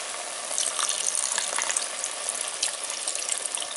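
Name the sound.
vegetable stock being poured into the pot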